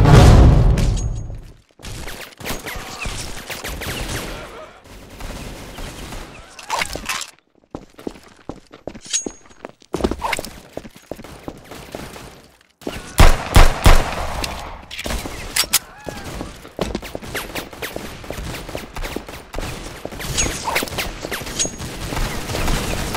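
Gunfire in the Roblox game Arsenal: rapid bursts of shots and crackling fusillades with short pauses between, loud and close, mixed with footsteps and game effects.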